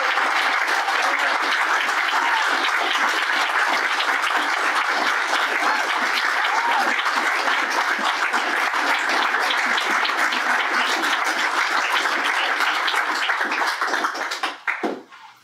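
An audience at a live comedy show at a California mixer gives sustained, dense applause for about fifteen seconds, steady and loud before tapering off at the end.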